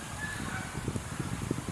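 Geese honking close by outdoors: a quick series of nasal honks, several overlapping calls repeating over a couple of seconds against steady background noise.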